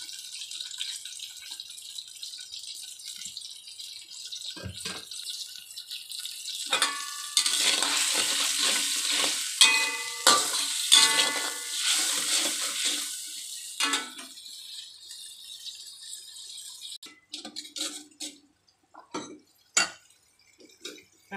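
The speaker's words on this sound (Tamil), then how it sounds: "நல்லா கொதிச்சிருச்சு" Fish curry simmering in a pot in a home kitchen, with boiled salted fish about to go in; soft bubbling and sizzle run throughout, with stirring and clinking of utensils against the pot, no talking.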